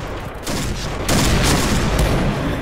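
Shots from a PSG1 sniper rifle in the Point Blank video game, two or three loud, sharp cracks rising over a steady busy background of gunfire.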